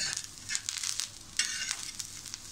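Grated coconut dry roasting in a pan without oil over medium heat, giving a soft, continuous sizzle broken by crackling bursts as it is stirred.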